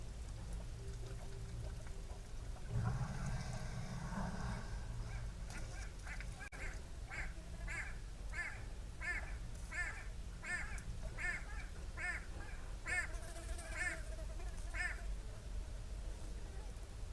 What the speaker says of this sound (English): I wonder what bird that is. It sounds a bit like a roller, or maybe one of the go-away birds.